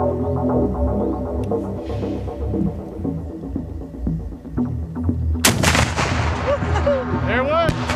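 An FGM-148 Javelin anti-tank missile fires and hits, with a loud, sustained rumbling roar from the launch through the impact, a sharp burst of noise partway through, and heavy low throbbing throughout.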